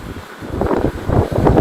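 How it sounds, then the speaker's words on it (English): Strong wind buffeting the microphone outdoors during a live drone flight near the Amazon DCA6 site at Tradepoint Atlantic, a loud, gusty low rumble that swells and dips without talking. "It's windy out"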